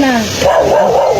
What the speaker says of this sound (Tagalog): Ganda ng aso.